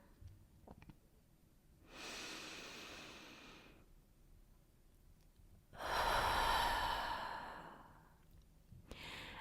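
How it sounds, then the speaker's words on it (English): Two slow, deep breaths, each a long inhale and exhale drawn close to the microphone, with quiet pauses between them. The second breath is louder and more forceful. "take a moment to take a big, deep breath with me"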